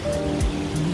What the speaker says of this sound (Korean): 계곡물이 흐르는 소리가 엄청나게 크게 들립니다